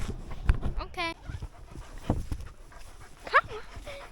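A dog pants and whimpers in short bursts close by, with a high yelp and whine in between, while people talk nearby.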